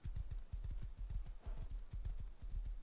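Horse hooves clip-clop at a steady trot in the video game Rust, the rhythmic thuds close and clear with no talking over them.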